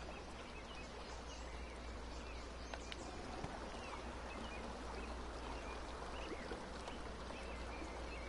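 A soft, steady wash of flowing water from a Golf With Your Friends course plays on its own at low volume, with faint scattered ambient chirps over it.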